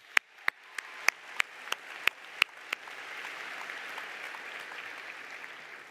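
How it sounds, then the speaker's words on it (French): Graduates at an ESSEC alumni ceremony applaud: a handful of separate, sharp claps come first, then a softer, more distant wash of clapping swells and carries on. "Vous pouvez vous applaudir."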